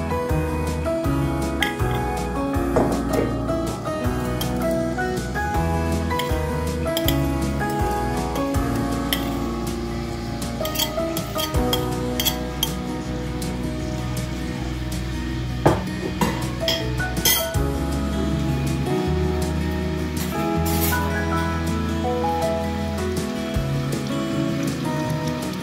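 Chopped onion dropped into hot oil in a pot for a South African Durban mutton curry, giving a steady loud sizzle with occasional clinks of a utensil against the pot as it is stirred.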